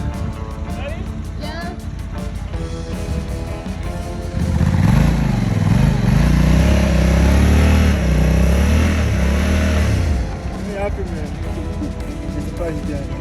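A motorcycle rides in the sand dunes near Walvis Bay, its engine droning loudly and up close, rising to a strained, churning roar in the middle before settling back, while someone talks over it.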